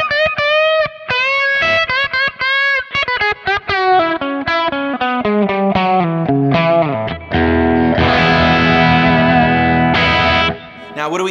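An electric guitar through a Kemper profiler with a high-boost and a high-cut EQ plays a fast, distorted melodic run, then sustained chords, loud and close, with chorus-like effects and no talking.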